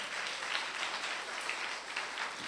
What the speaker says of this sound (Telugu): నమ్మినటువంటి వారందరూ బిగ్గరగా చప్పట్లు కొడతాం.